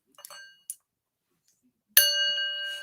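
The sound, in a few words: gong being struck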